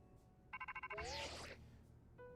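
A Rotom phone ringtone chirps in Pokemon Legends Z-A, with a quick pulsing series of tones, a warbling sweep and a short melodic note near the end, over game music.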